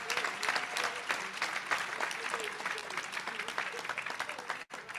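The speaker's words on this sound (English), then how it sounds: "Please give her a round of applause for me." A large audience at a Nigerian leadership colloquium gives Her Excellency, the First Lady of Lagos State, a round of applause: dense, continuous clapping with crowd noise that holds steady throughout and briefly dips near the end.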